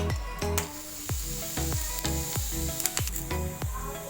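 Crushed ingredients sizzle in hot coconut oil in a pan, with a crackling fry broken by repeated sharp knocks of a utensil striking the pan in an uneven rhythm.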